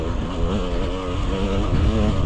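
A dirt bike engine runs poorly on a Utah single-track trail, heard as a loud, close, steady motor drone with wavering pitch that rises slightly toward the end, alone without talk.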